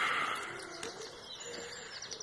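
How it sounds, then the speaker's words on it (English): Early-morning birdsong on a Sunday walk: a pigeon coos softly while smaller birds chirp and tweet at a moderate distance, with light outdoor ambience underneath. "All the birds singing."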